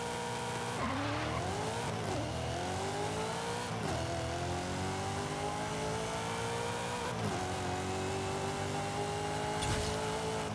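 A 1000HP 2006 Mitsubishi Lancer Evo 9 drag tune in Forza Horizon 5 screams through a quarter-mile run, its engine note climbing loudly through repeated gear shifts, each marked by a brief break before the revs rise again.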